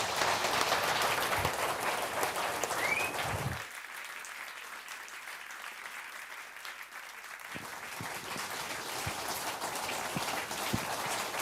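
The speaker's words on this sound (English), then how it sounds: "We must thank you very much indeed for a splendid evening." Sustained applause from an audience after an evening journalism talk: dense, rain-like clapping that thins and quiets for several seconds in the middle, then swells back to full strength.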